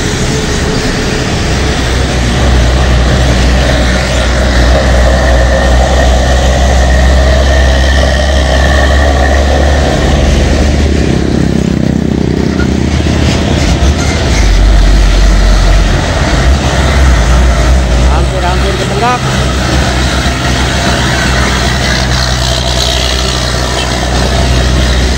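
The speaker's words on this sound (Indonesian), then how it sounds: "Dam truk Gading." A Gading dump truck grinds up the steep Jayanti climb, its heavy diesel engine giving a loud, constant low rumble that holds for about 25 seconds, with no voices.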